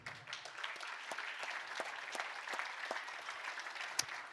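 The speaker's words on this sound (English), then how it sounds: "how about a nice round of applause for Jim and Jaqueen Fisher?" Quiet, scattered applause at a fundraising gala and live auction honors donors, with individual claps audible in an uneven rhythm from a modest crowd at some distance.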